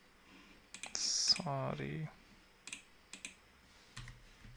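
A handful of sharp, separate key clicks on a computer keyboard as numbers are entered, sounding close and fairly quiet, following a brief spoken word.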